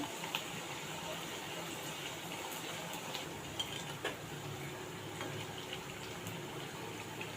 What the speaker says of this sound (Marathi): आता एक साईडने पुऱ्या आधी चांगल्या तळून घ्यायच्या